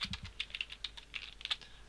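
Quick, close clicks of a computer keyboard while code is typed, with uneven bursts of keystrokes and no talking.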